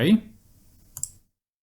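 Two quick computer mouse clicks land close together near the end, set during photo editing on a computer, following a brief burst of speech at the start and then trailing into silence.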